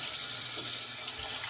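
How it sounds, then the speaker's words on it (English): Tap water runs steadily into a sink as a bowl that held a root beer float is rinsed out, a continuous close hiss and splash with no talking. "Put the bowl in the sink and rinse it out."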